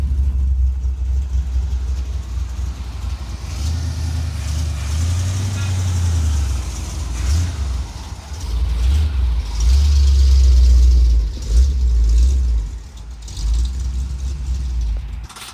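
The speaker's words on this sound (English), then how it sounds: "now it's time to actually get the truck in here and see if it'll fit" A 1975 Chevy C10 pickup rolls slowly into a paint booth, its engine idling and revving in low rumbling surges, with voices talking over it.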